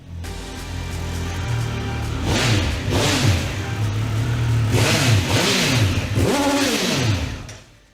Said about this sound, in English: we've got even more of that triple bark from the 1200 RS